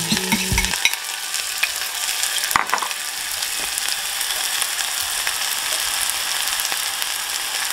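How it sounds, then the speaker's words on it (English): Onions sizzle steadily in a fairly hot pan while cooking onion pineapple jam, with a brief clatter of them going in at the start, followed by continuous frying crackle and occasional stirring. "So you wanna get your pan hot. Not screaming hot, but pretty hot, so you get a nice little sizzle."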